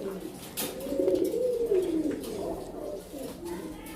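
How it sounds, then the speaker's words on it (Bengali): Low, throaty pigeon cooing rises and falls steadily over a few seconds, close by, with faint rustling underneath. "কবুতর পরীক্ষামূলকভাবে ছেড়ে দিয়েছি গোসল করে কিনা দেখার জন্য"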